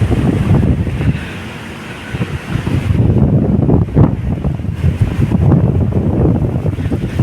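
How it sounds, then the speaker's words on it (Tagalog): Strong wind roars and buffets the microphone throughout, a steady low rumble with gusty surges and no voices, at the Manila Bay esplanade and dolomite beach. "ang lakas ng hangin dito mga bayan"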